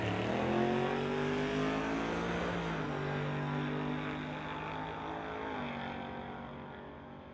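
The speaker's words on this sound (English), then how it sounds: "Trevor's in the 95 GMC pickup." A 1995 GMC pickup makes a drag racing run, its engine roaring loud and close, then holding a high, steady drone with a couple of gear shifts before slowly fading as it pulls away.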